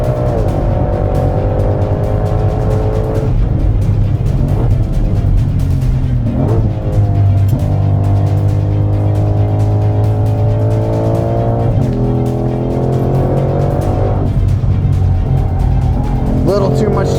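A 2020 Ford Mustang Shelby GT500 with 760 horsepower driven hard around a track, its engine roaring loud and continuous through rising and falling revs with tire squeal, and someone talking over it.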